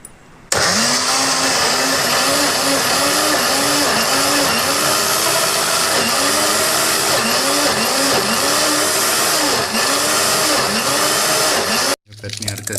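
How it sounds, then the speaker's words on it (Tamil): A kitchen mixer grinder blending banana stem chutney runs loud and steady for about eleven seconds, its motor whine carrying a regular pulsing churn before it cuts off abruptly near the end. "எல்லாத்தையும் நம்ம மிக்சியில் போட்டுட்ருக்கோம்"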